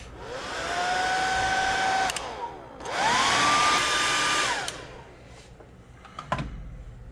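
A hair dryer blows on a freshly painted deep purple jerkbait fishing lure in two bursts of steady whirring roar with a rising whine, each about two seconds long, then clicks off, followed by a few handling knocks.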